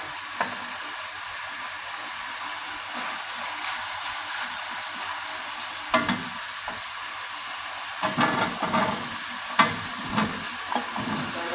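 Mushrooms stir-frying in a hot pan, a steady loud sizzle with intermittent scraping and clattering of a spatula as the pieces are tossed, close up with no talking.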